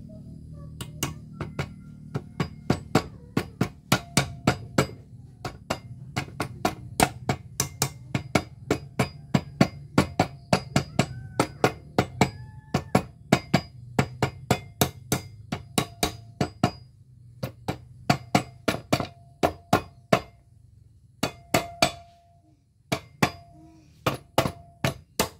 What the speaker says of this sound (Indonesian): ini palu karet teman-teman